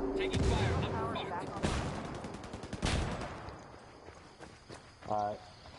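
Gunfire in a Ghost Recon Wildlands online match, with several sharp bursts and shots in the first three seconds amid busy game noise, and a further burst near the end, while players talk over it.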